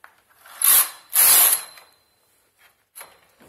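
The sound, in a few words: knitting machine carriage making a stitch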